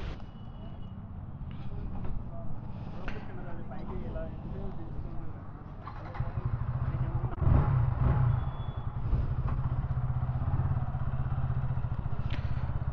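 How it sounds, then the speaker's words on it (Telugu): A KTM Duke 160 motorcycle engine runs steadily on a test ride, its low rumble growing heavier partway through, with a few clattering thumps. Someone talks over it. "So let's do the test ride of this KTM 160."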